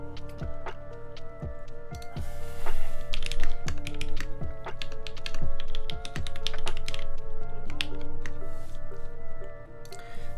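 Sharp, irregular clicks of keyboard keys heard close, alone over a steady tonal background of music or electronic hum, with no talking.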